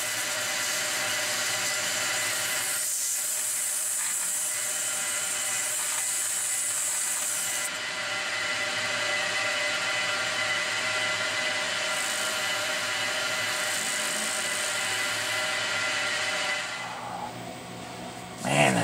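Fine-grit sandpaper rubs across a Nissan Altima brake rotor face, producing a continuous, even rasping hiss that runs for many seconds before easing off near the end, close and fairly steady, with no speech.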